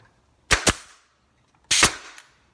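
An Anvil pneumatic brad nailer fires into a roughly 3/8-inch-thick piece of wood: two sharp, loud, close pops about a second apart, each with a quick double crack, separated by silence.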